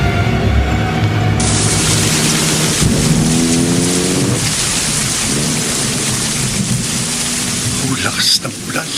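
Heavy rain pours steadily while low thunder rumbles and rolls through, loud and enveloping throughout.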